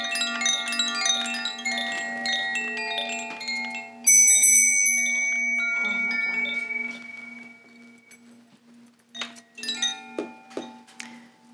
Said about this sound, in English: And I integrate a lot of these chimes in.